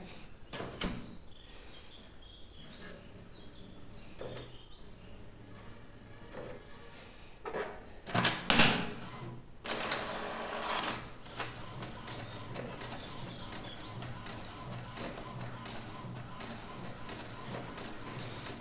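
An HP inkjet printer, an HP 2330-series model with a refilled HP 682 cartridge, prints a color page with soft mechanical whirring, a louder clunk of paper feeding midway, then a steady low running hum, all fairly quiet and close.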